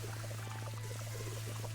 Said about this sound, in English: So I'm going to go ahead and fill up our water tank again.